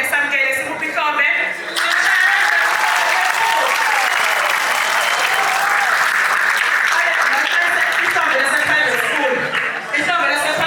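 Loud, sustained audience applause welcoming a stage manager at a KwaZulu-Natal music indaba event, thick continuous clapping with cheering voices and crowd noise running under it.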